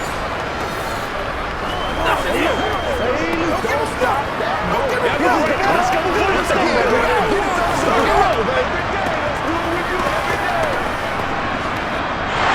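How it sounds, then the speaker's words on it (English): Stadium crowd in Madden NFL 23 shouting and roaring during a replay, a dense loud wash of voices with scattered yells over a steady babble. "Plenty of shouts from this crowd as they watch the replay."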